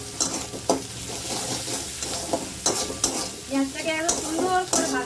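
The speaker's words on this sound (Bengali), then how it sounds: "পেঁয়াজটাকে একদম সুন্দর করে ভাজতে হবে" Onions with salt frying in a pan, a steady close sizzle broken by repeated scraping strokes of a spatula stirring them.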